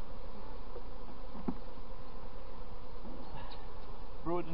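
Honeybees buzz steadily around an open hive during an inspection, making a close, continuous drone with a few brief higher tones near the end.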